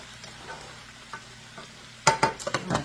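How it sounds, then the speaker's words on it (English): A spoon stirs rice in a pot: after about two seconds of near silence, a quick run of close scraping strokes and clatter begins, with no voices. "Stir my rice."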